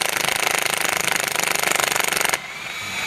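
An impact wrench rattles loudly in a rapid continuous hammering burst, working loose a coilover bolt on an MK4 Jetta, then cuts off abruptly, leaving a quiet garage hum.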